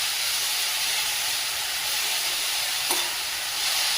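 Spinach bhaji with peanuts and chana dal sautéing in a pan, giving a steady close sizzle and hiss throughout with a faint stir or scrape near the end.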